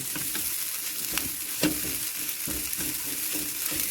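A spoon stirs a chicken filling for bread rolls in a hot pan, giving a steady soft sizzle broken by irregular scraping clicks and one firmer knock, close up with no talk.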